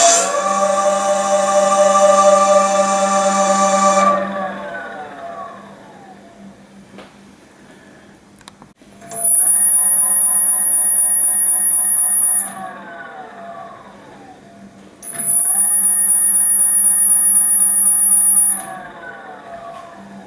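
A DIY 3 kW ebike hub motor runs with a loud whine that falls as it winds down, then spins up twice more with a smoother tone after controller tuning, each run lasting a few seconds.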